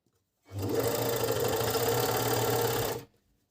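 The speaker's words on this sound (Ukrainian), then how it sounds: "Все, верлок готовий до роботи. Давайте подивимося, як він працює." An Agat overlock sewing machine runs at steady speed for a few seconds, a loud close whirring hum with rapid mechanical clatter that starts abruptly and cuts off cleanly.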